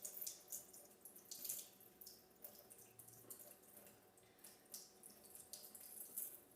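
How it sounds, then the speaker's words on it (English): Tap water runs into a sink while hands are washed beneath it, a soft continuous splashing with irregular bursts and gurgles, fairly faint and without voices. "Now you can wash your hands off."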